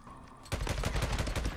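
A burst of rapid gunfire in the Days Gone video game starts abruptly after a quiet half second, then rattles on as quick, close, evenly spaced shots.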